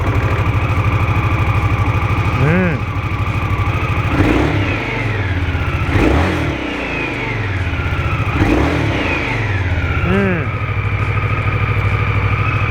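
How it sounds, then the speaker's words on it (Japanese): An Indian Scout motorcycle's 1133cc water-cooled engine idles with a deep, steady throb, with several brief throttle blips that rise and fall in pitch, recorded up close. "せっかくなんでエンジンかけてね、1133cc シリーズのサウンドとエンジンフィールチェックしていきましょう。"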